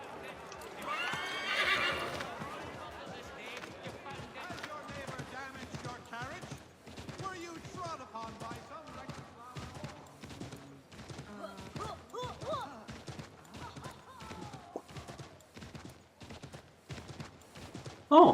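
A horse in the Assassin's Creed 3 video game whinnies loudly near the start, then hooves clip-clop in a steady rhythm throughout, under someone talking.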